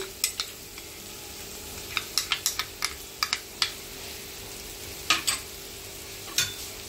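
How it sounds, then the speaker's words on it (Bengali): Mustard paste and spice masala sauté in a pan for a fish curry, a soft low sizzle under a series of sharp, clustered clicks and taps from the stirring utensil, fairly quiet and close, with no talk. "সর্ষে বাটা দিয়ে আমি কষিয়ে নিয়েছি"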